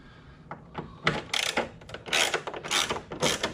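A hand tool works on the front fairing screws of a 2024 Indian Pursuit motorcycle, giving a series of close mechanical clicks and ratcheting bursts in quick irregular succession, with no talk over them.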